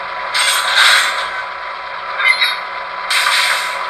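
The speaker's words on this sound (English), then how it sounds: "Function 21 is our coupler clank." Two metallic clanks a few seconds apart from a ScaleTrains Southern Pacific SD7R model locomotive's LokSound v5 coupler sound, each a short burst of clattering noise over a steady mechanical hum, with a small rattle in between.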